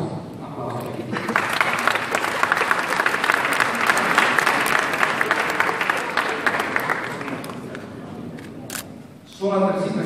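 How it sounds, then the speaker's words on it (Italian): Sustained applause from a crowd fills a council chamber in Sorrento for several seconds, steady and dense, then fades before a voice resumes speaking. "Ingegner Nicola Causa, applauso."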